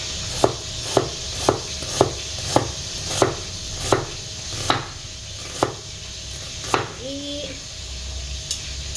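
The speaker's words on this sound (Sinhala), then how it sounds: "ලුණු මට මේ අනිත් පැත්තට ස්ලයිස් කරන්නේ" A knife slices onions on a cutting board at a home kitchen, giving a close, steady series of sharp chops about twice a second that pause briefly near the end, with a faint voice and low background hum.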